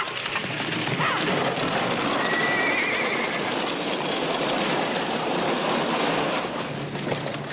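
A spooked old horse gives a brief, fairly faint whinny on an Old West ranch, heard over a constant, heavy rushing rumble of wind-like noise.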